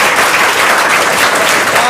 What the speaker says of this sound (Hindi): क्या जोरदार ताली के लिए एक बार